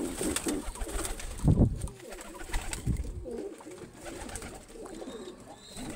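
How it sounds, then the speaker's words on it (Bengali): Pigeons in a breeding loft coo close by in low, throaty bursts, repeating a few times against faint background noise. "এই যে আমার এক পেয়ার পাখি কবুতর"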